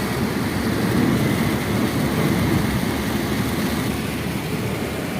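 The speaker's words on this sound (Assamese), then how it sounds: "এতিয়া বৰষুণ দিছে ভালকৈ।" Heavy monsoon rain pours steadily beside tea gardens, heard from inside a moving car. The rain is a loud, even roar of broadband wash that continues without a break, with no voices.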